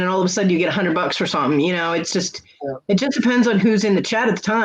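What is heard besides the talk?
No everyday noise stands out behind the speech.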